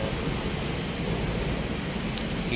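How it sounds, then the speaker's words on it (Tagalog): Steady rain pours down over an outdoor bus queue, a dense continuous hiss with low rumbling, loud and unbroken throughout with no voices. "Kaya inabot ako ng ulan."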